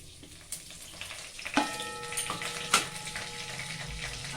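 Mustard seeds and curry leaves are tempered in hot oil, producing quiet sizzling punctuated by a few sharp pops and spattering crackles, close and unaccompanied by speech.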